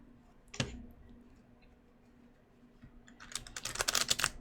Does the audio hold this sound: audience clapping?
no